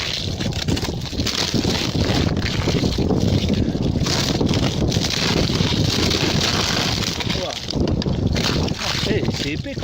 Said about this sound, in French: Alors là, il y a du vent là maintenant.